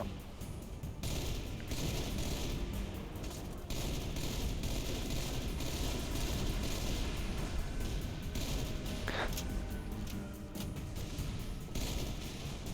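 Weapon fire in the video game Halo Reach, a steady loud barrage of gunshots and blasts filling the whole stretch with no clear pauses.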